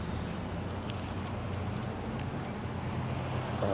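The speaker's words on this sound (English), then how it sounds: "I know it's really windy" Strong wind buffets a microphone outdoors on Oahu, Hawaii, a steady loud low rumble with gusty bursts through the whole stretch, no voices heard.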